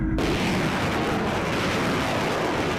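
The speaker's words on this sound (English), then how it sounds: "The 41st Field Artillery Brigade had its newest battalion conduct its first MLRS live fire." A Multiple Launch Rocket System fires live during a field artillery exercise at Grafenwoehr training area, a sustained heavy roaring blast that fills the whole moment at constant loudness.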